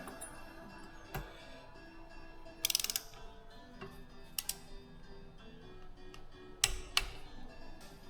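A torque wrench tightening bolts on a rebuilt turbocharger of a Skoda Fabia PD130, faint ratcheting and sharp metallic clicks scattered among quiet workshop noise, close by.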